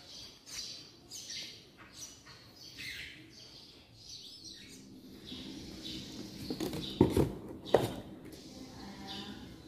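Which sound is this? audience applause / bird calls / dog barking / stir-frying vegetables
bird calls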